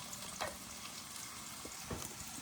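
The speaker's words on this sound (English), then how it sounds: "I'm just gonna saute some ginger garlic right over here." Ginger and garlic sauté in hot oil with a steady, close crackling sizzle and a few brief louder spits and stirs, no talking over it.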